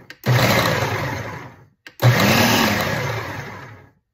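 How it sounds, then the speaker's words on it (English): Food processor pulsing peeled shrimp in two loud bursts of about one and a half seconds each, the blade whirring steadily with a short pause between pulses. "we're going to drop into our food processor"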